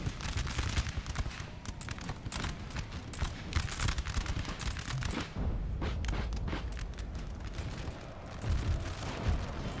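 Massed musket volleys crackle across a Napoleon: Total War battlefield, with dense overlapping shots rolling continuously, heavy booming undertones and a brief lull midway before firing resumes.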